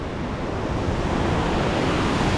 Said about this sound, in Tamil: அந்த கல்லாத்து பாறை நீர்வீழ்ச்சியில் குளிக்க தண்ணி எப்படி வருது பாருங்க